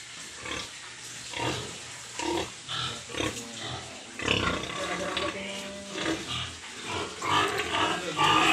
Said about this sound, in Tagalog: Yan po mga Mama Pig today na pinuntahan natin